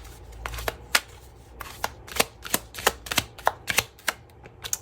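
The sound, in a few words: tarot cards being shuffled and pulled from a deck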